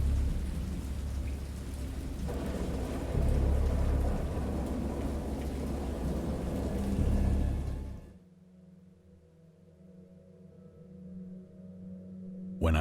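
Storm effect of heavy, dense rain with deep rolling thunder, loud and continuous, cutting off abruptly about two-thirds through to a much quieter, humming background.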